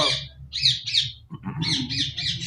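Green ringneck parrots at a Sunday bird market in Bahawalpur give sharp, repeated squawks and chirps in quick bursts, loud and close over a low background hum.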